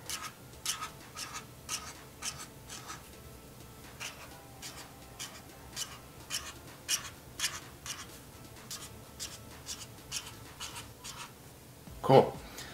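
A marker squeaks and scratches across paper in short repeated strokes as football cleats are drawn, quiet and close, under faint talk, ending with a brief louder tap.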